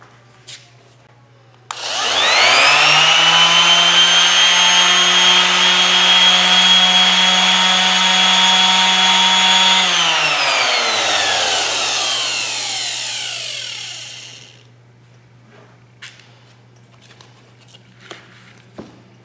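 A small Harbor Freight Chicago Electric random orbital palm sander whines loudly and steadily for several seconds close by, then winds down and stops, leaving a quiet room with faint clicks.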